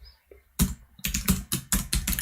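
Typing an email address on a computer keyboard, a close, crisp series of about eight key clicks in an uneven rhythm after a brief quiet start.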